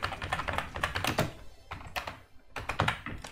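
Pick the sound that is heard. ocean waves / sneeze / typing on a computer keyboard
typing on a computer keyboard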